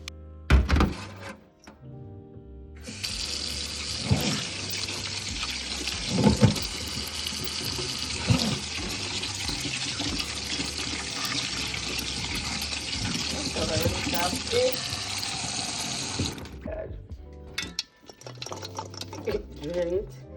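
Carrots being rinsed under a running kitchen tap, a steady broadband rush of water into a sink lasting most of the stretch, with clunks and handling noises around it and a voice speaking before and after.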